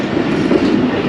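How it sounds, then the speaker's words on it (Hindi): The Karachi Express, train 16 Down, arriving at Drigh Road junction in Sindh after the 2022 floods: a steady, close rolling rumble of railcars and wheels, continuous and fairly loud, with no voices. "फाइनली ड्रिग रोड जंक्शन पर हमारी ट्रेन 16 डाउन पहुंच गई है"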